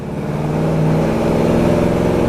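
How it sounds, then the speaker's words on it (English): A 1972 Chevrolet Chevelle Sport Coupe with a Flowmasters exhaust revs up close and loud, its deep engine note climbing steadily over a couple of seconds with no talking. "Got a nice exhaust system on it with Flowmasters."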